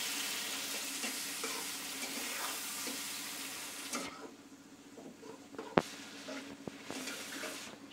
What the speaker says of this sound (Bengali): এবার দিয়ে দেব কাঁচা মরিচ টমেটো দিয়ে কিছুক্ষণ নাড়াচাড়া করব